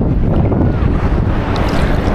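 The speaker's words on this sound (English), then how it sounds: "every once in a while there's a big wave that comes here" Ocean waves rolling onto a beach, a loud continuous roar of surf mixed with heavy wind rumble on the microphone, steady throughout with no speech.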